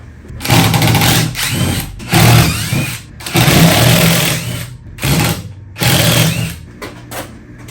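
A battery jigsaw cuts material during a trike build, giving loud, close buzzing bursts, about five runs separated by short pauses.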